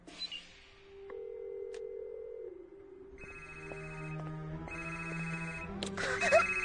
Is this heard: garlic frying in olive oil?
no